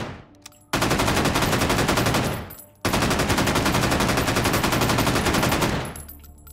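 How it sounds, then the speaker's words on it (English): Automatic gunfire in the VR shooter Hot Dogs, Horseshoes & Hand Grenades, fired as two long, rapid bursts separated by a brief pause, loud and close with no talking. "I just have to shoot these guns."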